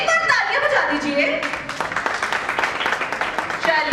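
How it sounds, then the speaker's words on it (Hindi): Audience applause at a 25th gala programme, starting about midway as a dense burst of claps after a voice, continuing steadily to the end at moderate loudness. "तो एक बार तालियां बजा दीजिए"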